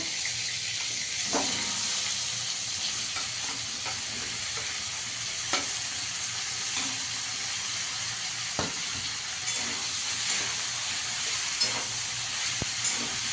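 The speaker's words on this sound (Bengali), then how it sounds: "তেলে আমি এঁচোড়টা ভেজে নেব।" Steady crackling sizzle of young green jackfruit pieces frying in hot oil, with occasional sharp clicks and stirring knocks throughout, no voices.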